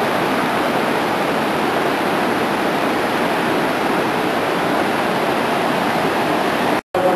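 The Crivadia stream rushes through a rocky gorge in Romania, producing a loud, dense, continuous roar of water. There is one brief dropout near the end.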